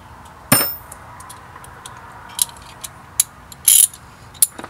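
A socket wrench snugs an alternator bolt on a Honda Accord, giving a handful of sharp, separate ratcheting clicks and metallic taps up close with short quiet gaps between them.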